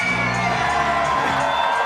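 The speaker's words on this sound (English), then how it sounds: "just wait till this crowd erupts" A large crowd at an MMA fight event, Art of Scrap 5, roars in a loud, sustained wall of cheering with whoops and shouts rising through it from start to finish.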